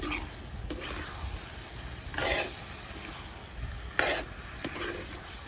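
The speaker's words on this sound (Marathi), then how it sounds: "मिक्स करून घेऊ." Fried parwal and potatoes being stirred into an oily gravy in a pan, with soft sizzling underneath and a few scraping stirs spaced across the clip.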